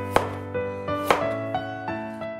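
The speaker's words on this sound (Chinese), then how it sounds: "再切一些姜片" Knife slicing fresh ginger into pieces on a cutting board, about five crisp, evenly spaced chops, close and distinct with no other sound.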